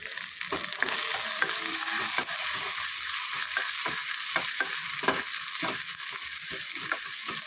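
Tempering ingredients for Andhra-style tomato pappu sautéing in a hot pan, a constant crackling sizzle with intermittent stirring scrapes and light knocks, close and fairly quiet.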